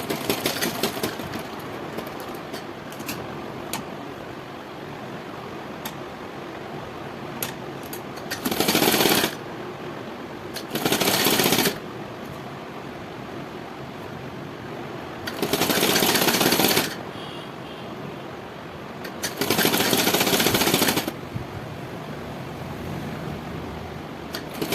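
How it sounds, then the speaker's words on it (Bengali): Sewing machine stitching a princess-cut blouse with a belt, running in four separate loud, rapid bursts of about one to two seconds each, with quieter handling sounds and pauses in between. "এবার আমি সামনের দিক দিয়ে সেলাই করছি"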